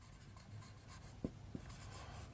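Pen writing on paper during an accounting lesson, a quiet steady scratching with two brief louder taps of the pen near the end, close and faint over low room hum.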